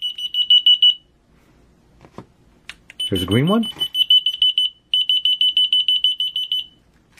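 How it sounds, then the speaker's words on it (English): Key finder receiver sounding when a transmitter button is pressed: loud, rapid, high-pitched electronic beeping in bursts, with a brief spoken remark in the pause between bursts. "when you press a button on the transmitter, the corresponding receiver will sound"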